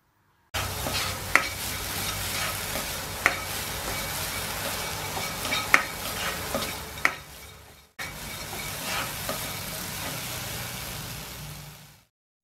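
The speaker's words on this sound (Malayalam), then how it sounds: "ഒരു ചൂടായ പാനിലേക്ക് ചെമ്മീൻ ഇട്ട് കൊടുക്കുകയാണ്. ഇനി ഇതൊന്ന് വറുത്തെടുക്കണം." Prawns dry-roasting in a hot pan without oil, stirred repeatedly with a steady sizzle and sharp spatula scrapes and clicks at intervals, close and fairly loud with no talking.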